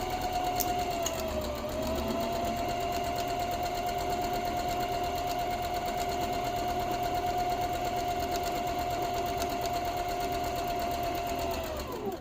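A sewing machine runs continuously while stitching a fabric cover, a steady close mechanical whir with a constant motor tone and rapid needle chatter, slowing briefly near the end.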